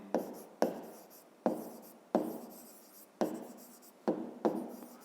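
A pen scratches on paper, writing out prime numbers by hand in a fifth-grade maths exercise, in about eight short strokes with pauses between them, close and clear, with no talk.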